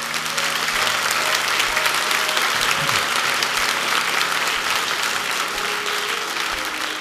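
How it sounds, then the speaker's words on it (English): Dense sustained applause from a church audience at a hymn event, loud and continuous throughout, with faint crowd murmur underneath. "how about a very special round of applause for the people who make today possible"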